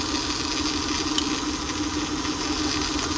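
Acura engine idling with a misfire after an ignition coil is unplugged, a steady mid-pitched rumble with a faint whine over it and a couple of brief clicks, close and fairly quiet, with no talking.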